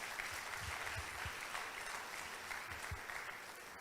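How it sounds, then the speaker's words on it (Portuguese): A church congregation applauding during a sermon, a steady wash of many hands clapping that fills the whole stretch at moderate distance, with no voice over it. "Pode aplaudir mesmo."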